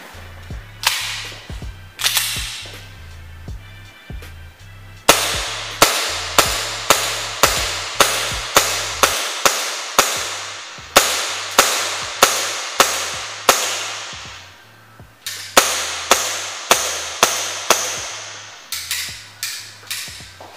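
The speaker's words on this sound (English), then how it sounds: "I'm gonna be shooting from around probably 20 feet or so." A Tokyo Marui Strike Warrior 1911 gas blowback airsoft pistol fires at a target about 20 feet away. Roughly two dozen sharp cracking shots come in quick series, each with a metallic slide clack, and there are short pauses between strings.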